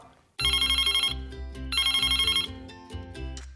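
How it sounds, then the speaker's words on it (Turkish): An electronic telephone ringtone sounds inside a Barbie makeup and beauty salon game. Two long, loud melodic ringing bursts are separated by a short gap, with no talking. "Aa telefon çalıyor."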